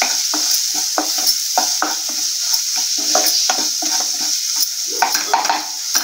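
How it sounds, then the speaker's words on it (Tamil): Ground pepper, cumin powder and garam masala sizzle in hot oil for egg malai curry, with a constant frying hiss under repeated quick scrapes and knocks of a spoon stirring the pan. "எண்ணெயில லேசா 2 பரட்டி விட்டுறலாம்"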